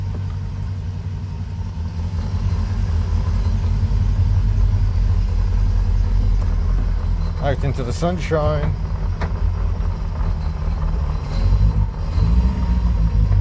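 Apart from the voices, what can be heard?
car engine running with audible induction noise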